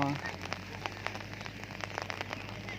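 Rain falls steadily on a rice paddy during transplanting, a soft continuous hiss of drops with scattered nearby patters, heard close and fairly quiet.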